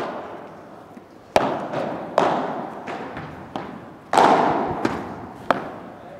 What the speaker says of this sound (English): Very nice volley, Laurens.